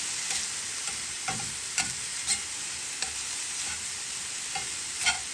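Turkey sausage frying in a pan for a breakfast casserole, with a steady close sizzle and scattered scrapes and clicks as it is stirred and broken up; no voices.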